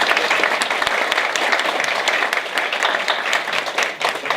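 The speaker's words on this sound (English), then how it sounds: "let's give a round of applause to Veronica and Rebecca" An audience at a public forum on the opioid epidemic applauds, with dense, loud, steady clapping throughout.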